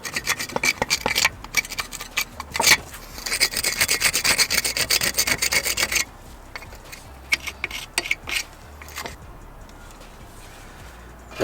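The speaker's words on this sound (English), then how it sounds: "just give it a little scrape" Steady rasping scrapes as caked-on debris is scraped off a Mini R53 front brake caliper, close and continuous at first, then lighter intermittent scratching strokes.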